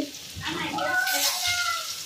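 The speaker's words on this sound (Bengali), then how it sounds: "তো এক পিস করে আমি দিয়ে দিব ভাজার জন্য।" Pumpkin-leaf fritters sizzle in hot oil in a large wok, a steady broadband crackle with a few clinks, while a voice talks quietly over the frying.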